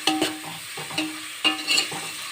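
Chopped onion, dried red chillies and curry leaves sizzle in hot oil in a pan, with a spatula stirring in short scraping strokes over a steady close fry.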